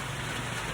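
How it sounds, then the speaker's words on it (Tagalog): Rain falls steadily as a dense, even hiss of drops on surfaces, constant and moderately loud with no break, no voices. "Ulan na po."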